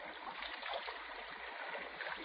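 Water streams and gurgles through a cave in a radio drama effect, a continuous rushing, burbling flow at moderate level with no voices.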